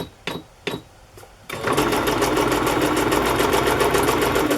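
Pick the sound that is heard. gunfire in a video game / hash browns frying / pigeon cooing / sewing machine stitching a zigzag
sewing machine stitching a zigzag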